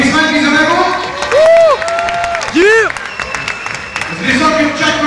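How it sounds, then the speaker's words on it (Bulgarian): Crowd noise and clapping from spectators at a 2010 Bulgarian NBL All-Star slam dunk contest, a steady wash of applause and cheering with arena voices and whistles rising over it throughout. "Аплодисменти за него."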